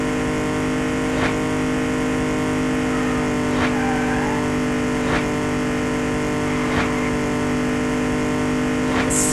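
Steady synthetic race car engine drone at full throttle in the racing game Mr Racer, holding a constant loud pitch with faint periodic sweeps every second or so, no talk.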